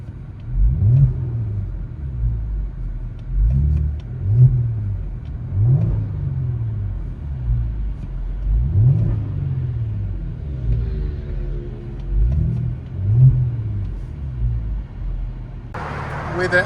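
Inside a 2019 Kia Stinger 3.3L twin turbo V6 with an MBRP axle-back exhaust and X pipe, a muffled engine drone rises and falls over several revs, steady and moderately loud, ending in a burst of noise.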